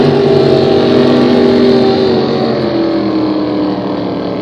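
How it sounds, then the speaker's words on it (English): A super stock flat bottom race boat roars past at full throttle in a regatta heat, a loud, steady engine drone that holds for several seconds and fades slightly at the end. "That's how long it takes to run four laps in a super stock flat bottom race boat."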